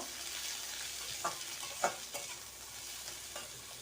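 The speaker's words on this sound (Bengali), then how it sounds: "পেঁয়াজটাকে হালকা একদমই হালকা ভেজে নেব" Onions lightly frying in a pan for chowmein give a quiet, even sizzle with a few gentle spatula scrapes and taps, nothing else over it.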